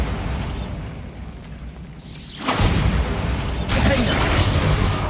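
Bombarda spell explosion in Hogwarts Legacy, a rushing blast that surges in loudly midway with rumbling debris, then a second burst swelling shortly after over low background noise.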